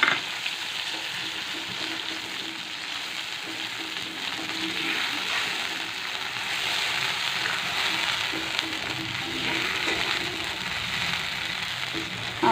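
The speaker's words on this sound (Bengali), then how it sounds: "টক দইটাও এরপর দিয়ে দিচ্ছি, দিয়ে আরও কিছুক্ষণ কষিয়ে নেব" Paneer curry masala with yogurt fries in a pan, a steady close sizzle and crackle running unbroken for the whole stretch without any talking.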